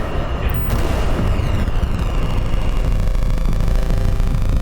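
A space gun fires continuously in a McDonald's horror game, a loud, sustained roaring blast with rumbling, explosive texture that persists throughout without pause.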